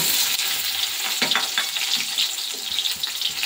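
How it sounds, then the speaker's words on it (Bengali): Onions frying in a wok in a home kitchen, a bright steady sizzle with crackling spits and a few stirring scrapes, close and continuous, no voices. "পেঁয়াজটা ভেজে নিয়ে"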